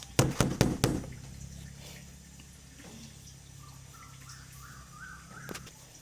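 Cups of pandan coconut pudding tapped on a hard surface, a quick run of sharp knocks up front, then a low steady background with one more tap near the end.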